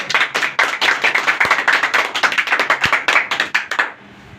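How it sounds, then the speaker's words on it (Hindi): A small group claps for a student at an institute, a close, fast, rhythmic burst of hand claps that runs for about four seconds and then stops abruptly. "गज्जू के लिए भी तालियां भाई"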